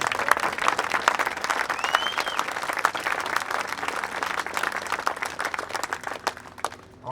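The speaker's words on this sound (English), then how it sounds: "Band, let's give them a round of applause." Steady audience applause after a big band performance on the Clarinda town square, dense clapping sustained for about seven seconds before tapering off at the end.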